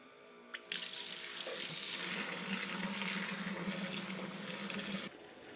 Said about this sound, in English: I'm going to pump this in and splash around.